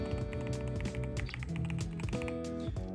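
Rapid typing on a custom GMK67 keyboard fitted with Gateron switches, a dense run of crisp clacking keystrokes up close, playing over a steady musical background.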